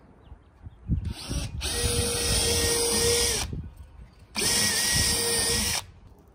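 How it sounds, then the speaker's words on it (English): Two long, steady whines of a power drill with a Phillips tip driving screws into a 2x4, close by, each lasting a couple of seconds, with a brief pause between them. "switch your 1/8-inch drill bit out for your Phillips tip and secure the handle to the 2x4 with 4 screws"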